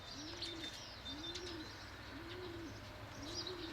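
Pigeons coo in a steady, repeating rhythm of soft low calls, with faint chirping from other birds in the background.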